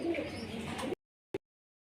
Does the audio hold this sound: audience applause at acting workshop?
no